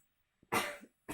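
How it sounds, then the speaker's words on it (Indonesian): A single harsh cough from a lecturer, close and fairly loud, preceded by a short breath and followed by the start of another cough; no speech over it. "maaf sedikit batuk."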